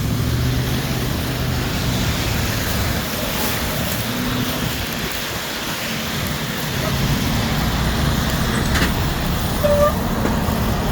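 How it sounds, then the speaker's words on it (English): Road traffic with cars and buses rolling past on a busy street, a continuous rumbling wash of engines and tyre noise, fairly distant and steady, with a person talking over it. "These cars just keep coming."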